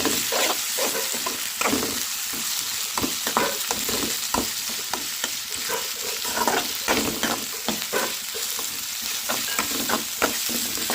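Onion paste frying in a pan for a chapati onion curry, a continuous bright sizzle broken by frequent clinking, scraping stirs of a spoon, close and busy from start to finish.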